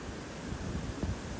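Strong wind sweeps the seaside at Apollo Bay, Australia, a continuous loud roar of rushing air buffeting close by with no voices.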